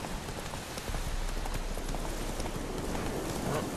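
A horse trots in The Witcher 3, its hooves making quick, steady clip-clop beats on a background of soft rain-like noise, with no talking.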